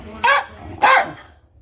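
A 15-year-old deaf, nearly blind dog gives two loud, close barks in quick succession, the second slightly longer and trailing off.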